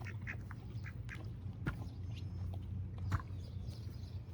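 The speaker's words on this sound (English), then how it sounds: "We have a duck trying to come steal food." A duck quacks in short, scattered bursts while trying to steal horse feed, close by, over a low steady background hum with occasional sharp clicks and knocks.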